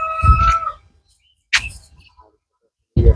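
A rooster crows close by near a chicken house on a Peking duck farm in Cumilla: one loud, drawn-out harmonic call, followed by two shorter bursts separated by quiet gaps.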